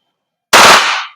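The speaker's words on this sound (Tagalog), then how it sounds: "Parang isang putok lang pero parang dalawa yung lumabas na bala dun eh." WE M4 airsoft gas blowback rifle firing on full auto, a single sharp, loud, rapid burst that blurs into one crack with a short decaying tail, close by and with no talking.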